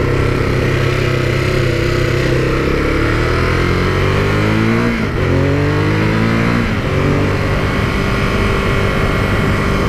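A 2018 Ducati Monster 821 motorcycle engine pulls hard on an open road, a loud steady roar climbing in pitch through the gears with two brief dips at shifts, close and continuous with no talking.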